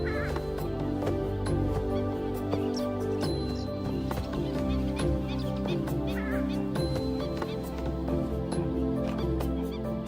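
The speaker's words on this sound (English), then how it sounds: "This is the purple swamp hen, also called the sultana bird, famed for its very loud, explosive call." A purple swamp hen, or sultana bird, in the Thai wetlands gives a loud, harsh, honking call, repeated steadily over a dense wildlife background.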